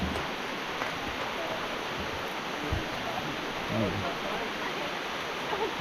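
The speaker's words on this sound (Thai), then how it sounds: "น้ำไหลแรงด้วยว" Strong water flow at Haew Narok waterfall in Khao Yai during rain: a loud, steady broadband roar of rushing water with no breaks, carrying a few faint low thumps.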